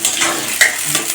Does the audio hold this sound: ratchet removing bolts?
no